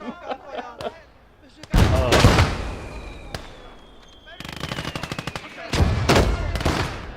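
Bursts of MG34 machine gun fire in a World War II shooter game, loud automatic volleys in several stretches with a voice talking briefly between them.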